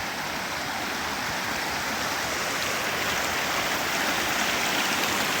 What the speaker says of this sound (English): Final creek crossing.